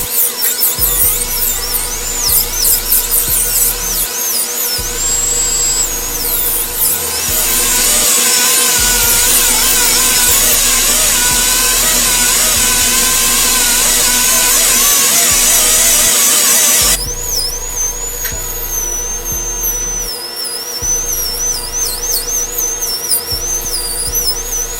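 A slow-speed dental handpiece running a dry burr against a ceramic crown makes a loud, continuous high-pitched whine that wavers as pressure changes, with a brief shift in pitch partway through and no talking.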